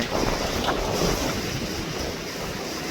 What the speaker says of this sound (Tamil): இப்போ இந்த படகு இந்த கடலுக்கு எப்படி ஆடி வருதுன்னு பாருங்க